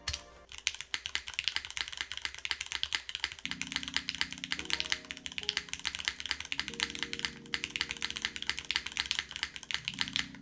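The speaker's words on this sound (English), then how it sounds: "As I keep clicking, there's a faint underlying metallic sound in some areas of the board" Rapid, continuous clacking of keys on a mechanical keyboard, close up and crisp, with a soft tonal hum underneath.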